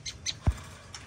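Small birds give a few brief, high chirps while being released into an aviary, with a soft thump in between, heard faintly and close in a quiet setting.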